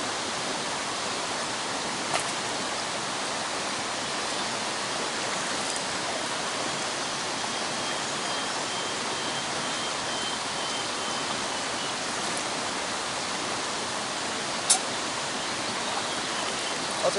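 Water poured steadily through a soaked brown filter bag, a continuous close rushing splash like a small stream, even in level for the whole stretch with a few brief clicks.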